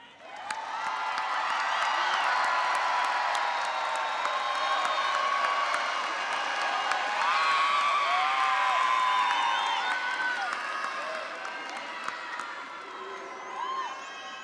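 Commencement graduates cheer, whoop and applaud their loved ones, a loud, sustained crowd roar with scattered shouts and clapping that stays full for most of the stretch before easing slightly near the end.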